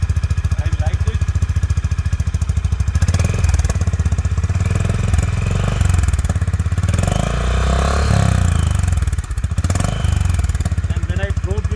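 A Honda Highness CB350 motorcycle's exhaust rumbles loud and close, a steady low thumping idle that swells into revving in the middle before settling back, continuous throughout.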